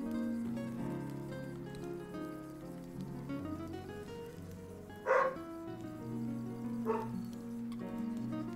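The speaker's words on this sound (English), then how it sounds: "I gotta see what Jojo's barking at." A dog named Jojo barks in two short bursts, about two seconds apart, heard at some distance from the mic over a steady hum of indoor background noise.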